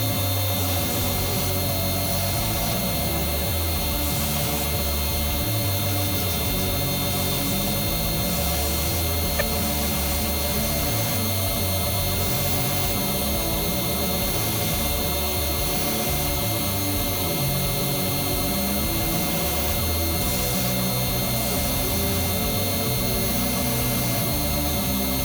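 A 1x72 belt grinder hollow grinds a skinner knife blade, a steady loud abrasive whir with a constant motor hum that runs unbroken throughout, grit texture fluctuating as the steel is worked, no voices.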